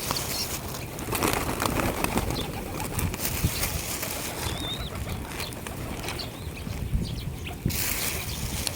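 Doves at a backyard bird feeder: soft wing flaps and faint cooing amid a busy outdoor background, with a few brief bird chirps and light rustling.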